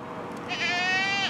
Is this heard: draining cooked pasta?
no